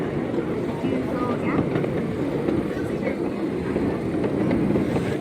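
A downtown passenger train runs steadily on its rails, giving a continuous close rumble with faint clickety-clack and rattling from inside the car throughout.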